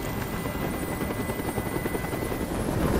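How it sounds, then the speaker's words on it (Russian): A helicopter hovers steadily overhead in the video game Detroit: Become Human, its loud, continuous rotor chop and engine drone filling the scene without talk. "Прикажи им, чтобы вертолет убрался!"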